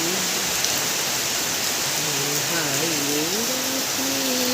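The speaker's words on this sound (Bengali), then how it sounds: "ভালোই বৃষ্টি হচ্ছে।" Heavy rain falls in a steady, dense hiss that stays constant throughout, with a faint tonal hum drifting underneath and no clear speech.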